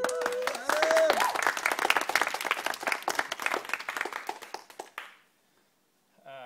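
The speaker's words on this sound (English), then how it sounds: "So a round of applause for Adam" A crowd at a Christmas party annual awards night gives a round of applause for a coach, with dense overlapping claps and voices mixed in. The clapping thins out and stops after about five seconds, then brief talk returns.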